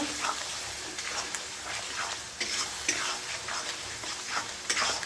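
Spice masala stir-fried in a pan with a little water before the meat goes in, a continuous close sizzle broken by scraping stirs and small bubbling pops.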